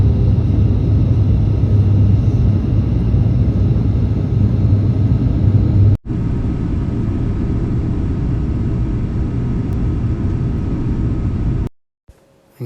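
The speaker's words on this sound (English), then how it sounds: "Now enjoy our landing onto Anchorage's runway." Steady, loud roar of an Alaska Airlines 737-900ER landing on the runway at Anchorage, a broad rumbling engine and air noise heard from inside the cabin that holds constant, then cuts out briefly near the end.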